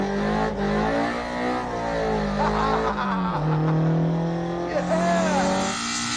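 A loud rear-wheel-drive car engine revs and whines over wet road noise as the rear tires slide and squeal, with a voice briefly underneath.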